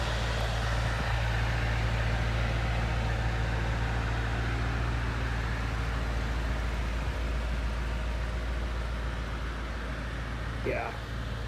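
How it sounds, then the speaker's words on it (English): The intercooler intake of a 2020 Chevrolet C8 Corvette Z51 2LT draws air with a steady, close whooshing hum and a low drone that holds evenly throughout. "Just listen to that intercooler. Suck it in the air."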